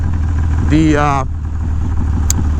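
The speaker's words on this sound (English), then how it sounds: "Listen to that motor." A 1984 Harley-Davidson FXRP with an Evolution engine idles steadily in a low, loud rumble, while a voice briefly speaks over it.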